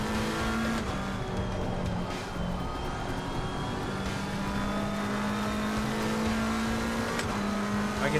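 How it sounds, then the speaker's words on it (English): Race car brake squeal in Assetto Corsa Competizione, a steady high whine sitting above a continuous engine drone with occasional tonal shifts, no talk. "why are these brakes squeaking?"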